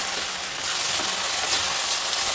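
Vermicelli frying with tomato puree in a pan, a dense continuous sizzle with soft stirring, close and loud, no voices.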